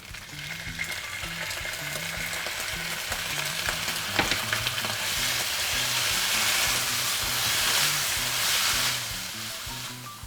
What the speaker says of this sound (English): Now we're going to go in with our eggplant. I'm going to stir it.